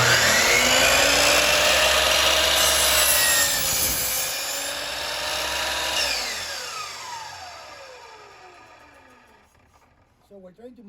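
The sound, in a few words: miter saw cutting wood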